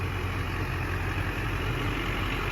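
A stock 2003 GMC Sierra 2500HD with a low-mileage LB7 Duramax diesel engine and stock exhaust idles steadily close by, a loud, even low rumble with no talking.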